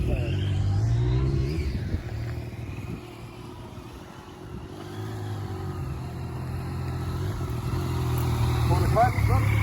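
A motorcycle engine hums steadily as the rider eases out the clutch and leans through a couple of left turns. The rumble is close and continuous, sagging slightly midway and building again toward the end.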